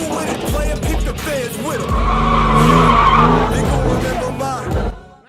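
A car slides into a handbrake turn on throttle, the engine revving hard as the tires squeal and scrub in a loud, close skid that fades out at the end, with a voice talking over it.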